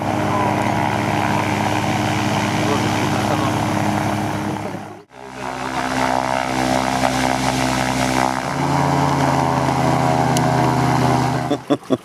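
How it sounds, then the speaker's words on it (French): A propeller airplane engine drones steadily and loudly throughout, with a brief dip midway and a change in pitch near the end. "voilà l'avion que Sébastien va prendre"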